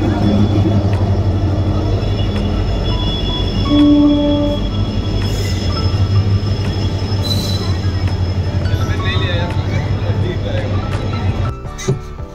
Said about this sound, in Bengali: ওই যে আমাদের ট্রেন চলে এসেছে।